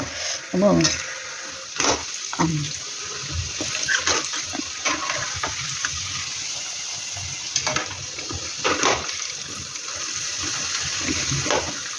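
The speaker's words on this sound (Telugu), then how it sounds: "మంచిగా రెడ్గా అయ్యేంత వరకు అయితే ఫ్రై చేసుకోండి" Rice flour and sesame snacks fry in hot oil, giving a steady close bubbling sizzle with scattered stirring clicks and scrapes, while a voice talks intermittently over it.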